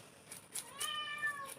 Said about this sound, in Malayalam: പൂച്ചകൾ കരയുണ്ട് കേട്ടോ.